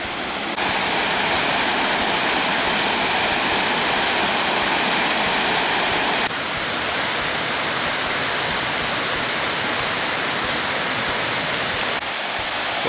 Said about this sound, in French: Il y a des cascades magnifiques.